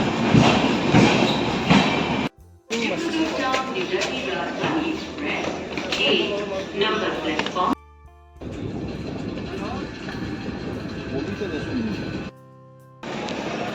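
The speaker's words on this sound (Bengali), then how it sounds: "এই যে ট্রেন এসে গেছে আমাদের।" A train rumbles and clatters loudly as it arrives at a station, bound for Prayagraj during the 2025 Maha Kumbh, wheels squealing on the rails, with people talking over the steady mechanical din.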